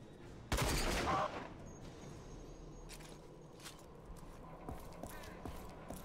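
Grenades and gunshots in the shooter RAGE: a sharp, loud blast opens, followed by scattered single shots and a distant rattle of fire in a quiet ambience, with no talking.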